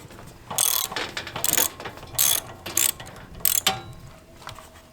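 A ratchet turns the nut on an RV water heater's anode rod, sounding as several short bursts of close, rapid clicking, each stroke separated by a brief pause, with no talk over it.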